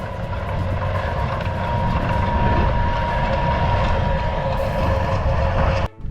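A Snowdon Mountain Railway train in Wales runs with a loud, steady rumble and rattle that stays close and continuous throughout, then briefly dips near the very end.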